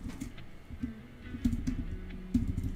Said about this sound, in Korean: 이게 키보드를 치면은